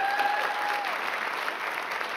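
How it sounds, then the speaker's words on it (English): An audience applauding at a live-streamed city event, dense sustained clapping filling the room, with a faint tone sliding beneath it at the start. "Will you please give them a round of applause?"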